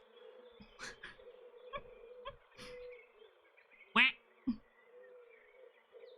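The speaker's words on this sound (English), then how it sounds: "Thank you for the duck noise." A single loud duck-like quack stands out near the middle, followed by a shorter second one, over a faint buzzing background with scattered soft clicks.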